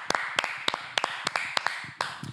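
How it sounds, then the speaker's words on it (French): A few people clap in a loose rhythm during a casual chat show, with about ten sharp, separate claps spaced evenly, close and fairly quiet. "On peut l'applaudir"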